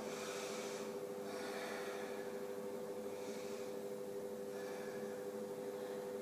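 Slow, deep breaths during a vinyasa yoga flow, soft airy inhales and exhales rising and falling in a steady rhythm over a constant low hum, with no talking.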